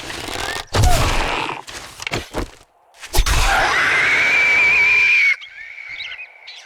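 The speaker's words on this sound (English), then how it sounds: "That's a new scream. That's not a modified original scream." A zombie scream from the 7 Days to Die video game, a loud, drawn-out shrieking wail with a rising whistling tone. It comes after several sharp, punchy bursts and fades into a thinner trailing cry.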